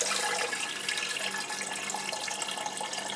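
Water poured into a canner holding jars of strawberry vanilla jam, a steady, moderately soft, unbroken rushing splash with no voices.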